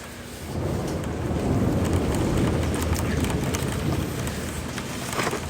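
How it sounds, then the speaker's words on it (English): Heavy rain pours down at night in a steady, dense roar with gusty wind noise on the microphone, loud and continuous with no voices. "It's pouring."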